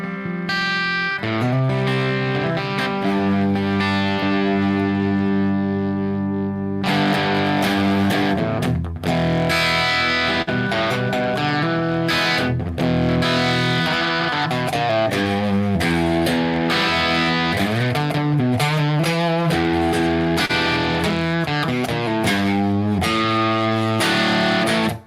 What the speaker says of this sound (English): 6L6 distortion is so weird.